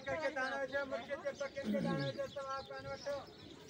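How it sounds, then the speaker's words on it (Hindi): Pigeons coo softly in low, throaty murmurs beneath a person speaking nearby at an old fort in Multan, with faint chirps and background bustle. "ये कबूतर है।"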